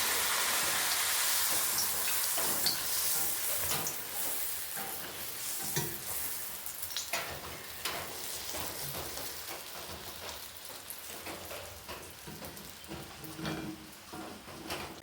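Puris deep-frying in plenty of hot oil crackle and bubble up close, a dense sizzle with scattered bursts and stirring strokes, loudest at the start and then settling into an uneven, spitting fry.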